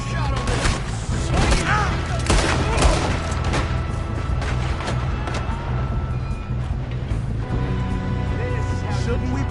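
Gunfire in a Red Dead Redemption 2 shootout: a steady clatter of shots and booms, several sharp cracks standing out early, with a voice talking over the firing.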